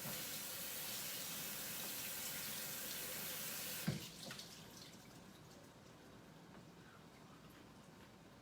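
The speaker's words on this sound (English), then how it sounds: "So we gotta wash some more blueberries" Running tap water pours steadily while blueberries are washed in a sink, then cuts off abruptly partway through, leaving quiet drips and faint room noise.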